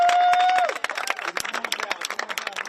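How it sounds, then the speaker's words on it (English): A crowd claps for Reverend Barber at an outdoor gathering, uneven scattered hand claps following a brief tone, with voices mixed in, moderately close. "One more round of applause for the Reverend."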